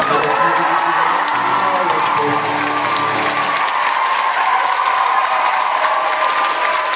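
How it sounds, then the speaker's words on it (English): Audience applause with scattered cheers at a live London event in 2013, a dense, steady wash of clapping from a large crowd that fills the space throughout, with a low rumble of voices easing off partway. "And you started clapping, so I just gave up."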